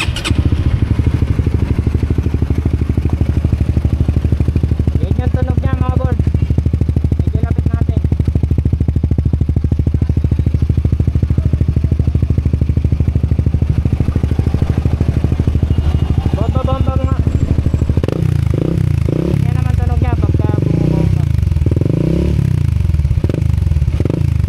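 A Honda Winner X motorcycle fitted with a Motovin Replica Pro aftermarket exhaust idles steadily with a loud, deep, throbbing rumble, then rises into several revving swells near the end, with faint voices in the background.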